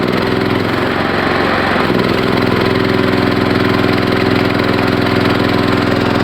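A gas-powered electric generator engine runs steadily and loudly up close, a droning hum with a slight change in pitch early on, its low power too weak to run a welder.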